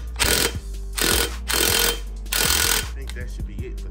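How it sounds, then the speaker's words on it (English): An impact gun tightens a lug nut to pull a new wheel stud through the hub of a 1991 Honda Civic, sounding as four loud ratcheting bursts of hammering with short pauses between them, close by. "You take your impact gun and you tighten it down."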